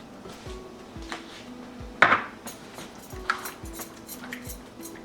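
Japanese mayonnaise and Sriracha sauce are stirred together in a bowl for a sushi bake, making quiet, irregular clinks and taps of a utensil against the bowl, with one sharper clink standing out near the middle.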